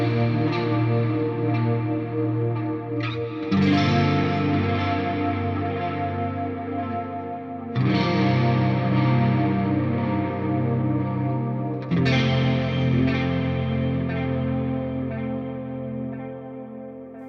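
An electric guitar played through a Line 6 Helix chorus preset for post-rock modulation and delay. Four loud, sustained strummed chords ring out one after another, each swelling with shimmering chorus and a long wash of echo and reverb. No one speaks.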